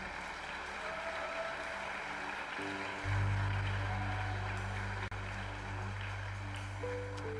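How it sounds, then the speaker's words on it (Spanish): A church congregation claps in sustained, steady applause during a service, while sustained keyboard notes play underneath. "recibirles con un fuerte aplauso"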